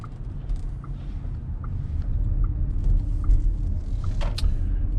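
A VW ID.4 electric car drives and turns around, giving a low, steady road rumble from inside the cabin, with faint periodic ticking and small clicks over the top.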